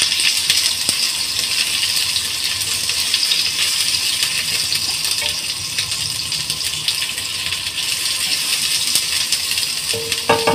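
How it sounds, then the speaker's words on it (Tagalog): Sliced onion dropped into a hot frying pan gives off a steady, close, bright sizzle that holds evenly throughout, with a few light stirring clinks near the end. "Add natin yung slice onion."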